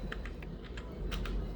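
Rapid typing on a computer keyboard, close and steady, a run of light key clicks over a constant background hiss with no talking.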